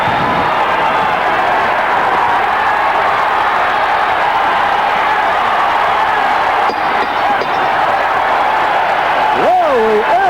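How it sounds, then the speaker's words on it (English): A dense boxing arena crowd roars throughout a 1983 heavyweight fight between Larry Holmes and Lucien Rodriguez, a loud continuous wash of cheering with a commentator's voice heard over it. "Listen to the crowd."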